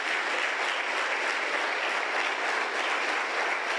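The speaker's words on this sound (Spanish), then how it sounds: "Gracias por su aplauso tan emotivo." A church ministry audience applauds in a long, even round of dense clapping that holds at steady loudness, with no speech over it.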